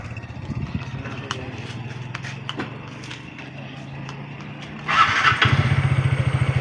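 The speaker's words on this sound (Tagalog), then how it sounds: "testing natin yung motor na ginawa natin" A TVS Ntorq 125 scooter engine idles with a low, steady rumble, then revs up louder and throbs in quick pulses near the end.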